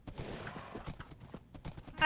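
Donkey or pack mule hooves clip-clop steadily in Minecraft, a quick irregular patter of close, light hoof hits running alone throughout.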